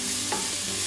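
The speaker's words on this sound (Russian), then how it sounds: "Добавляем сюда перец. И перемешиваем." Carrot and pepper sizzle briefly in a hot frying pan as they are stirred, a short, close burst of crackling with a light scrape of the utensil.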